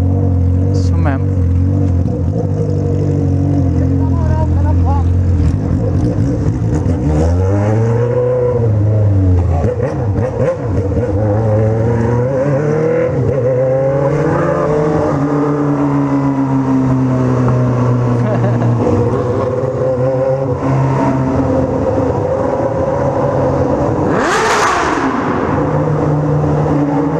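A Honda Hornet motorcycle engine revs loudly and close, its pitch rising and falling through repeated throttle blips over a steady idle, with a voice talking over it at times.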